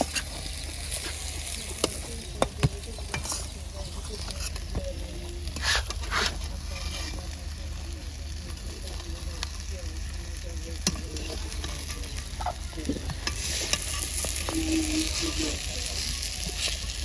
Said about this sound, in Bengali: বেগুনগুলো লাগিয়ে করে ভাজিয়ে নিই। বেগুন ভাজিয়ে নিছি